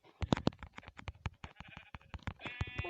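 Sheep bleat several times in quick succession in the video game Minecraft, mixed with sharp clicking and tapping sounds, fairly loud and close with no voices.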